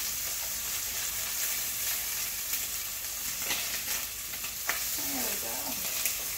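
Chicken fries in a pan for pepperoni chicken pasta, a steady sizzle with a knock or two as a piece is flipped and a brief spoken remark near the end.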